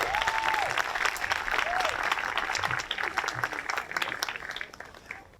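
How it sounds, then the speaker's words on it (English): An outdoor ceremony audience gives a warm round of applause for a scout troop, the dense clapping holding steady before thinning and tapering off near the end, with a brief whistle-like tone rising above it early on. "one more round of applause for them joining us today"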